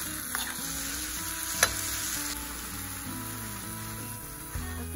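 Tomato sizzling and frying in a hot pan for beef tinga, a steady crackling hiss close by with occasional stirring scrapes, alone without talk.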